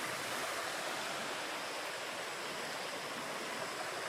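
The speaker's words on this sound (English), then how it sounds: "and that's the river" A river runs high after heavy rain upstream, a steady broadband rushing of water heard alone and at an even level throughout.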